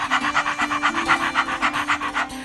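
A person imitates an excited puppy by panting, a quick, even run of about a dozen sharp breaths close to the microphone.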